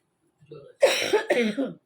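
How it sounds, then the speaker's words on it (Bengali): Two sharp, close coughs in quick succession, preceded by a faint throaty sound, with nothing else around them. "কাশি শুরু হয়ে গেল।"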